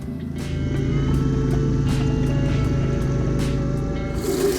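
A boat engine idles steadily while being flushed with water, giving a continuous low rumble with faint rhythmic ticking over it and no talk.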